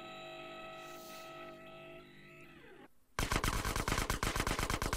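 An Uzi submachine gun in GTA San Andreas fires a loud, rapid burst of rattling shots after a lull of droning game sound, the gunfire continuing steadily to the end.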